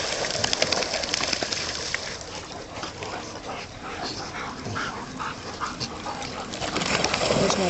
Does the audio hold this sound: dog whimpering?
yes